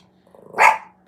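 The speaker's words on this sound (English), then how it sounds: "She's such a little dog, but she swears she will fight you." A small dog lets out a single sharp bark, close and loud, after a quiet moment with only faint background sound.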